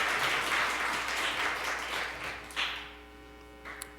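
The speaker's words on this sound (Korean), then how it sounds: "감사의 의미로 박수로 감사합니다." A church congregation at a Sunday worship service applauds in thanks, a dense wash of clapping that fades out over a few seconds against a steady electrical hum, leaving a few last claps.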